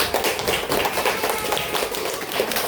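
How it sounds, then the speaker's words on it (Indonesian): A class of students claps together in a classroom, giving a steady, dense burst of applause that lasts a few seconds with no voice over it. "kita kasih tepuk tangan untuk kita semua"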